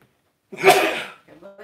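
One loud, close sneeze bursts out of silence, followed by a short spoken reaction.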